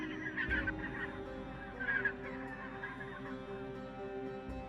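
Swans in an animated tale honk in several loud, nasal bursts, with brief pauses between the calls.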